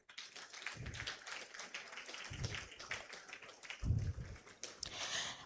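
A crowd applauds at a university faculty dean's awards ceremony with faint, scattered clapping that swells in brief bursts, heard from a distance.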